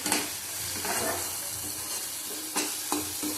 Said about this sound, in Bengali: ভালো করে কষাতে হবে, না কাঁচা গন্ধ ছাড়বে